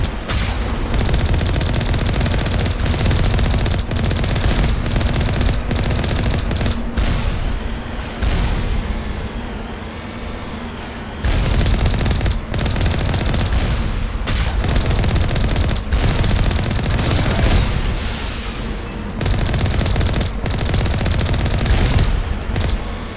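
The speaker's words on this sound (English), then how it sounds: "This is an Alliance heavy turret." Alliance heavy turret in the Mass Effect video game firing continuously, a dense, loud roar of rapid heavy gunfire and booming impacts that runs nearly unbroken with a short lull midway.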